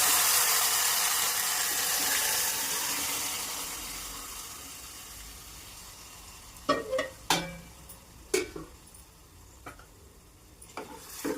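Oggarane tempering for tomato saaru: a steady hot-oil hiss fades gradually over several seconds, then sharp metallic spoon clinks and taps ring out against the pot, with no talking.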